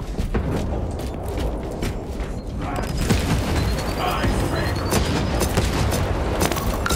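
Game gunfire and explosive booms from Warhammer Space Marine 2, a dense, loud battle roar with repeated heavy blasts and mechanical clatter, with a voice talking under the din.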